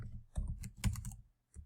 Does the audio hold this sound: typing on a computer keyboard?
yes